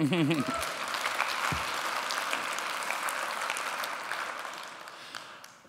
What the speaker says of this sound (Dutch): Dames en heren, mag ik een groot applaus, Ilja Leonard Pfeiffer.